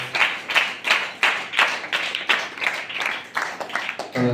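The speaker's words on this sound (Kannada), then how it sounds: "ಜೊತೆಗೆ ಅವರಿಗೆ ನಿಮ್ಮೆಲ್ಲರ ಜೋರಾದ ಚಪ್ಪಾಳೆ ಮೂಲಕ ಅನಂತ ಅಭಿನಂದನೆಗಳನ್ನ ತಿಳಿಸೋಣ." Fairly soft clapping from an audience at a monthly religious gathering honoring local achievers. It comes in rhythmic swells roughly twice a second, about eight or nine pulses, heard from a moderate distance.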